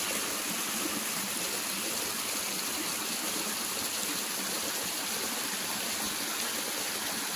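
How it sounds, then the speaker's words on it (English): Close waterfall tumbling about seven feet into a creek just feet from a micro hydro intake, a steady dense roar and hiss of falling water with no pauses and no voices. "a waterfall. Feet away from the intake, dropping down about 7 feet"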